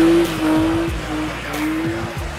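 Cars drift at a Moldovan car enthusiasts' meet, tires squealing loudly and continuously over roaring engines, with rising and falling pitch as the cars slide past close by.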